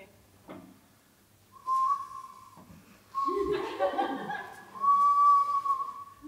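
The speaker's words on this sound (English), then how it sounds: "This is an ocarina, if you don't know what it was." An ocarina plays a few short breathy whistled tones at a science slam, with gaps between the notes, and laughter and audience noise mixed in around them.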